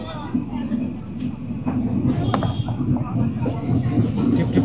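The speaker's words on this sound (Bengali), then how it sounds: "আলমডাঙ্গা থেকে ছেড়ে দিল আমাদের ট্রেন।" A Kapotaksha Express passenger train pulls away from a station in light rain, its low rumble and rhythmic wheel clatter building steadily underneath faint background noise from inside the carriage.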